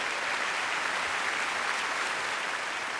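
Audience applause at the Critics Choice Celebration of Black Cinema, a steady, dense wash of many hands clapping together, sustained and even throughout with no voices.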